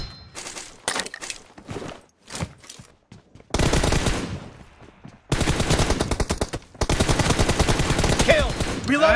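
Rapid automatic gunfire from a mobile shooter game in a team deathmatch, with long loud bursts of repeated shots after a stretch of scattered single shots, dense and close throughout.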